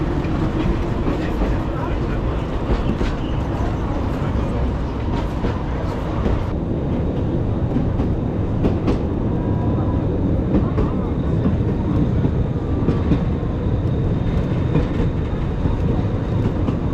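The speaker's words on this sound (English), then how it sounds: "It looks like the earlier train is returning." A train rumbles past steadily at close range in the Bieszczady mountains, with a continuous low roar and faint rattling over the tracks and no talk.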